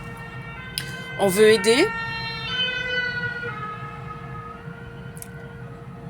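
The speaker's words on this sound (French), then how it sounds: "cette sirène qui vient de passer" An emergency vehicle siren wails as it passes, a steady tonal whine with a brief warbling sweep, heard beneath someone speaking French.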